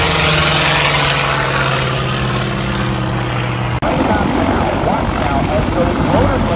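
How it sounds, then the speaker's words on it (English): Military helicopter at the Chambers Field centennial air show, its rotor blades spinning up to lift the aircraft, a loud steady whirring drone with low rotor throb, an announcer talking over it throughout. "As those rotor blades flown upwards, as they begin to support the weight of the helicopter itself."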